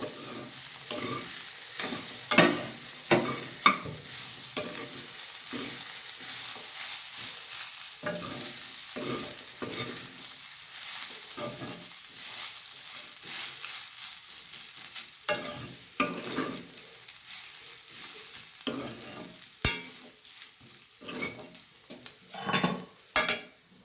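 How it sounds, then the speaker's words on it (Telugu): Rice stirred while frying in a pan, a spoon scraping and tossing in repeated strokes over a soft continuous sizzle, close and fairly loud, with no talking. "మనం తీసుకున్న కప్ రైస్ కూడా దీంట్లో యాడ్ చేసి బాగా కలుపుకుంటున్నాము"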